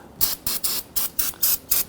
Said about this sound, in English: Give that a spray and wipe this down.